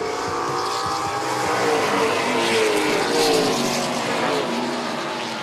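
Late model stock cars roar together at Texas short-track pace just after the green flag, a loud, sustained engine drone swelling and sweeping past with no voices.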